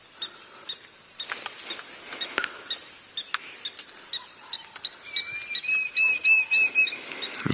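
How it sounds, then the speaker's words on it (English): A Diederik's cuckoo calling at sunrise on an African safari drive, repeated clear whistled notes rising toward the end, heard over faint scattered chirps and small rustles. "You can hear the Diederik's cuckoo encouraging her as well."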